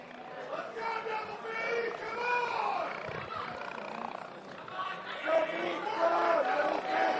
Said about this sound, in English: This crowd is imploring Brian to attempt something.